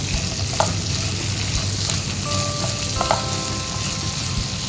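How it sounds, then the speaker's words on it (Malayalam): Chopped onions, about two large ones, sizzle steadily in a pan with sliced green chillies for a restaurant-style beef roast, a loud continuous frying hiss with occasional stirring clicks and no talk. "നമുക്കതിലേക്ക് അരിഞ്ഞു വെച്ചിരിക്കുന്ന സവോള ചേർക്കാം."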